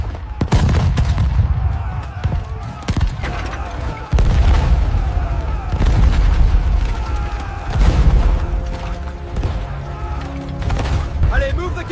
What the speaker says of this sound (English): The fort opened fire with the same fury as before.